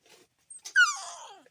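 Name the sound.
puppy whimpering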